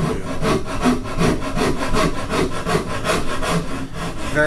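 A wooden guitar neck being shaped with a rasp: rhythmic, close scraping strokes, roughly two per second, each a coarse rasping rub against the wood, with no talking.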